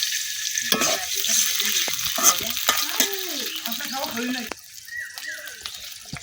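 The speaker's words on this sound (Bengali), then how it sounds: "পেঁয়াজটা হালকা ভাজা হয়ে গেছে। এখন আমি একটু পানি দিয়ে নিতেছি।" Lightly fried onions sizzle in a pan as a little water is added, producing a steady hiss broken by repeated scraping stirs that go on throughout.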